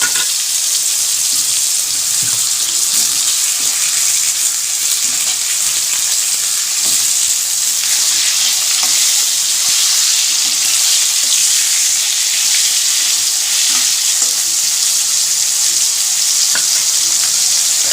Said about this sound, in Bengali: হলুদ তো মাখানো ছিল না তাই খুন্তি দিয়ে মাখিয়ে দিলাম তেলে দেওয়ার পরে